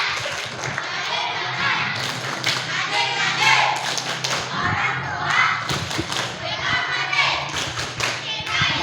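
Children clap along to a chant at a Quran school gathering before Ramadan, rhythmic group claps and thumps mixed with young voices, fairly loud and close.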